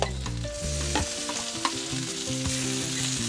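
Tomatoes sizzle and crackle loudly in a hot pan for guisadong bolinao, with steady frying noise and the scrape and clink of stirring throughout.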